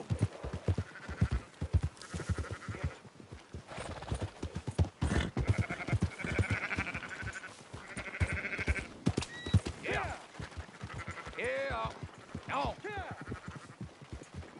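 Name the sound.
sheep bleating in the video game Red Dead Redemption 2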